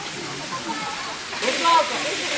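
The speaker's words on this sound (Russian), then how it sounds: "Ну вот, наконец, и водопад Джурла." Rushing water from the Dzhurla waterfall in Crimea fills the scene as a steady broadband hiss, growing louder and brighter partway through, with faint voices in the background.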